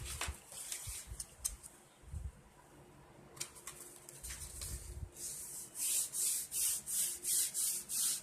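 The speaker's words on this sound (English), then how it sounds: "Burnish it down." Glued paper being burnished onto a junk journal page, a close soft rubbing and scraping that turns into a rhythmic series of about eight firm rubbing strokes near the end.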